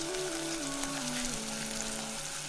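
Meat and tomato sauce cooking on low heat in a pot, giving a steady, soft, close sizzle and bubbling with no talking.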